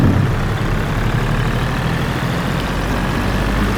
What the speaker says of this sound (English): In this really old tractor. I hope you can actually hear me over it.